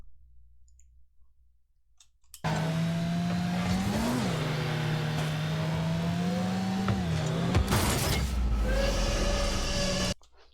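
A car engine in the Rocket League video game revs steadily with a rising pitch that dips and climbs again, set over a busy clicking game soundscape, with a sharp burst near the end before cutting out.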